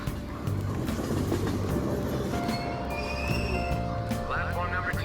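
Train in the video game Persona 5 Royal, a steady rumbling rail roll with clickety-clack wheel rhythm and faint squeals, running continuously at moderate level.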